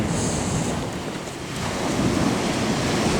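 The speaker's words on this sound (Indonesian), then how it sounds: "Kita sudah di pantai ini, kita lihat di bawahnya Kape Hetang" Surf rolling in at Kapehetang beach, a white-sand shore in Tamako, as a loud continuous wash of breaking waves mixed with wind buffeting the microphone, with no talking.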